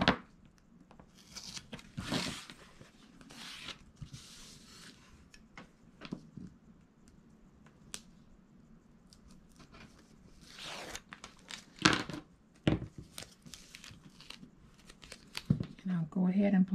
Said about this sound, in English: I am going to place tape from end to end